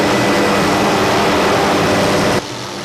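A doorless helicopter flying over Maui gives a loud, close, steady engine and rotor roar with wind rush, which drops abruptly to a quieter hum near the end.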